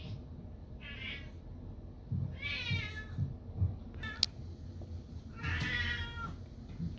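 Domestic cat meowing several times close up in a quiet home, three distinct drawn-out meows a couple of seconds apart with soft background noise.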